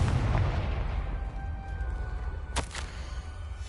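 Fiery blast of the Confringo spell in Hogwarts Legacy, a sharp explosive burst rising over a low rumbling game ambience, with a brief crackling tail.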